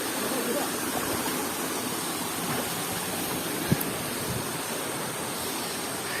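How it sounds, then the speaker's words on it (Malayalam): Twin waterfalls pour into a forest pool, a steady, dense wash of falling water that stays even and continuous, with one brief sharp knock partway through. "രണ്ട് ഇരട്ട വാട്ടർഫാൾസ്."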